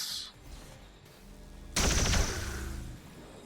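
A loud burst of automatic gunfire from XCOM Long War of the Chosen erupts abruptly after a quieter stretch and rattles on for over a second.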